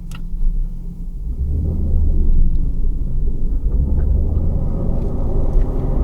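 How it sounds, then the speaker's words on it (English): Manual car being double clutched from first to second gear, a low engine drone that dips and then rises into a steady louder rumble, with faint clicks from the cabin and no talk. "Clutch in, neutral, clutch out, and then clutch back in second gear"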